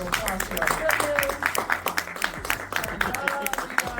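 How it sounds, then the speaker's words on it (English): Audience at a film festival award ceremony applauding the judges, a patter of scattered claps from a modest crowd with voices mixed in. "So can you guys give a round of applause to our judges?"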